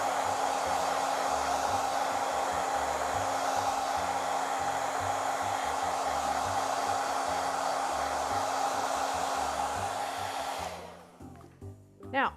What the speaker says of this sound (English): We're going to blow dry the unit.